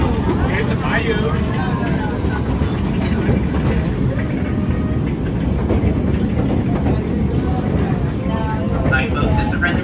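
Walt Disney World Railroad train running on a scenic ride, a steady loud rumble with rhythmic rail clatter throughout, heard close from aboard with faint background sounds.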